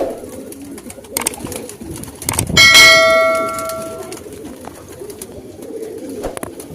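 Pigeons in their loft drinking from a water bowl, soft cooing and rustling close by, with one sharp ringing metallic clang midway that hums briefly before fading.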